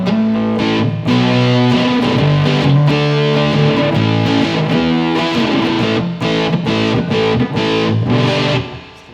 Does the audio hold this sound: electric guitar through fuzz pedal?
yes